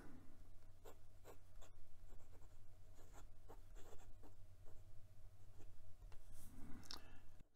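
A HongDian 6016 fountain pen with a size 6 steel fine nib writes on Clairefontaine 90 gsm paper, close, quiet scratchy strokes in an irregular rhythm with soft taps between them.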